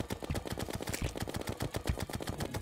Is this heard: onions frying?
no